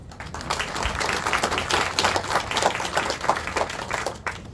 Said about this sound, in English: We can clap, please.